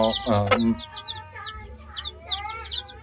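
A wild junglefowl hen clucks in short, bright, repeated bursts, close and fairly loud, with a brief low voice near the start.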